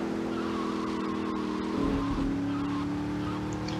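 A car drives steadily in GTA Vice City, its engine a constant droning hum that shifts pitch midway as it changes speed, with no talk over it.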